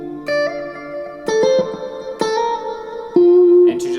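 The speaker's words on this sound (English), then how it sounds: "So I'm going to add some electric guitar." An electric guitar plays through a Universal Audio Ruby pedal with reverb, picking a few distinct sustained notes and chords that ring out with reverb tails, clean and close, with no voices.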